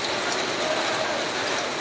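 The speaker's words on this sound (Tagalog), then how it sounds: "Medyo maulan ngayon mga bay, no? Tag-ulan na." Rain falls steadily during a billiards money match, a continuous broadband hiss like drops on a roof, even and fairly loud throughout, with no voices.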